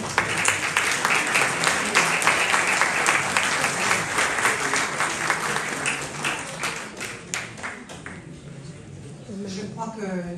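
An audience at a French association's general assembly applauds after a conference talk, a long dense burst of clapping that thins out and fades near the end, where a voice begins speaking.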